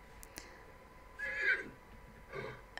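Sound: wild horse neighing in the video game The Sims 3

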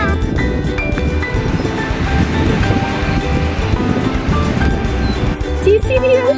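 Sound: ocean waves on a California beach

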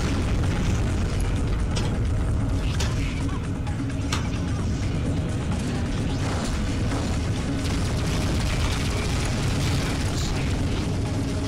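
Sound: explosion in a space video game

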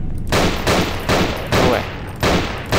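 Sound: revolver shots in Nightmare House 2 video game

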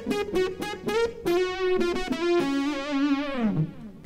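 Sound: electric guitar with Boss GT-100 wave synth effect

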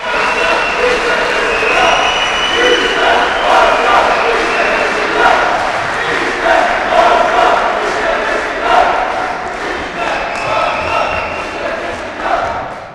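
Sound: party members chanting slogans and applauding at congress

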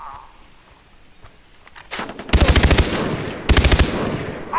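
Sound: gunfire in the video game Far Cry

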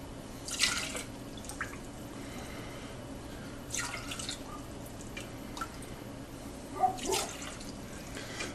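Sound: straining sumac lemonade liquid through cloth

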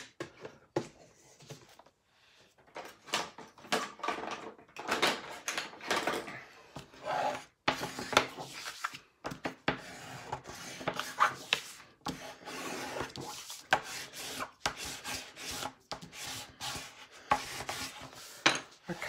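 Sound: burnishing papers down on a mini album

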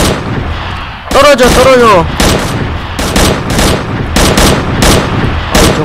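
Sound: gunfire in video game Days of Fallujah

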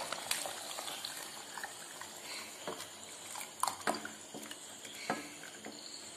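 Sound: jackfruit payasam boiling with jaggery and coconut milk

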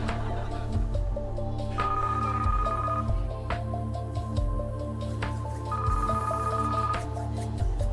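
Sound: telephone ringing on game show set

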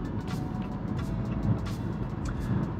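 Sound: 2023 Maserati Grecale Modena SUV driving

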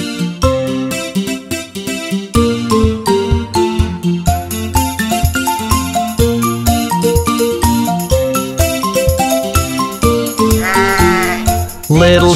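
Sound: sheep bleating in a nursery rhyme

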